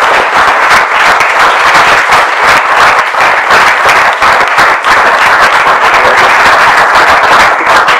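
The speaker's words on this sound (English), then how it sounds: "this whole cheering thing is going quite well so far" Sustained applause and cheering from an audience at a European Parliament election hustings in Glasgow, dense steady clapping filling the room without a break, loud and close throughout.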